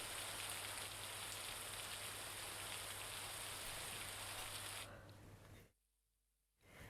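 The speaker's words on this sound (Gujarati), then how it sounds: "ધનોરી પાથરી તેની આસપાસના વિસ્તારો જ્યાં સારો વરસાદ વરસી રહ્યો છે" Heavy monsoon rain pours down in Gandevi, Navsari, after a long dry spell, a loud, dense, constant hiss that thins out near the end before cutting to near silence, then briefly returning.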